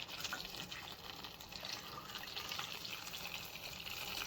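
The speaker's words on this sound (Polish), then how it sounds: "zaleję ją e, gorącą wodą, tylko tak, żeby ją przykryć" Hot water pours steadily over guelder rose berries in a pot, a soft continuous splashing trickle heard close up and fairly quiet, with no talking.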